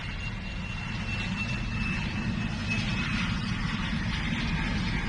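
A car engine in cold condition runs at raised RPM with an even, steady drone, dense low rumble and a faint high whine holding constant throughout.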